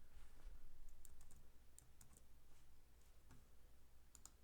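Light typing on a computer keyboard while entering a value in the Gravit design app: a handful of quiet scattered key clicks over a low steady hum.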